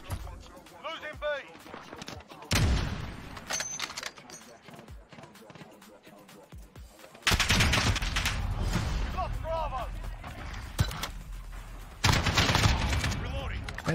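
AK-47 gunfire in Modern Warfare comes in several loud automatic bursts between quieter gaps, with a person talking over the action throughout.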